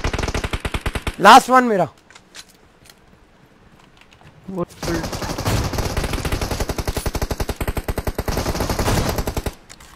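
Rapid automatic gunfire in the mobile battle royale game PUBG Mobile rattles in loud, evenly spaced bursts, pausing briefly before a longer sustained volley, with a player talking excitedly over the shooting.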